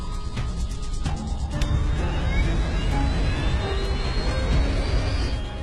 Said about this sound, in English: the left engine ignites